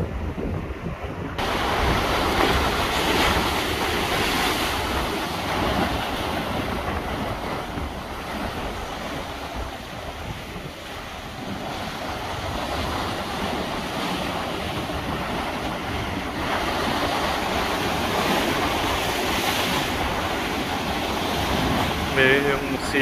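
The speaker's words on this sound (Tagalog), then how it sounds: "Tapos ang lakas ng alon dito." Strong ocean waves at a fishing shore roll and crash continuously, heavy wind buffeting the microphone, with a voice speaking faintly under the surf.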